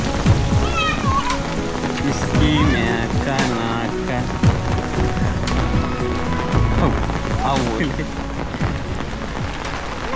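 Heavy rain pours over flooded fields as a constant, loud wash of noise, with people talking over it throughout.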